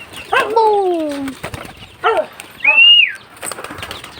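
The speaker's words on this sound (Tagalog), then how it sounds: "Guys, yan po mga kalapati natin guys." A flock of pigeons being fed, with bursts of wing flapping amid loud close coos and calls, a voice speaking briefly in the background.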